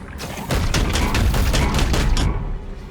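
Rapid burst of gunfire from Chaos Gate: Demonhunters, a loud, dense string of booming shots lasting about two seconds, close and alone before fading out.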